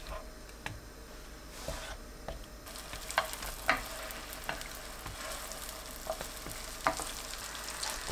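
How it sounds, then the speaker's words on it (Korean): Onions fry gently in melted butter in a pan over low heat, giving a soft, continuous sizzle with scattered small pops and clicks, fairly quiet and close. "버터가 반쯤 녹으면 양파를 올립니다"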